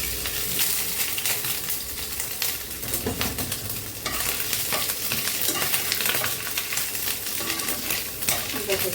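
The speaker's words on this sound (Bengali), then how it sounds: "আদা কুচিটা দিয়ে দিচ্ছি।" Chopped ginger fries in a hot pan for a vegetarian Bengali dish, a loud continuous sizzle broken by stirring scrapes and clinks, close up and with no talking.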